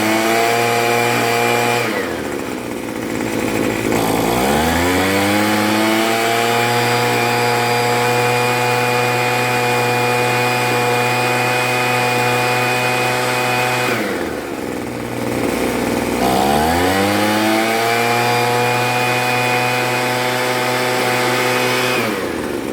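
A Troy-Bilt TB430 two-stroke leaf blower runs after a carburetor and fuel line repair, its engine droning loudly and close, dipping and bogging twice before revving back up to a steady high whine.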